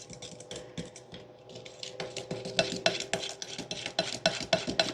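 A Danish dough whisk mixes a strawberry blueberry cobbler topping in a bowl, rapid rhythmic scraping and clicking strokes that grow louder and more regular, with no talk.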